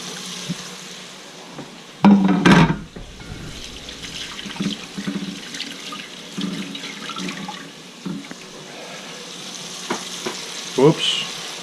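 Food frying in a pan on a home stove, a steady sizzle with a louder burst of stirring and clatter early on, while a person moves around and talks briefly nearby.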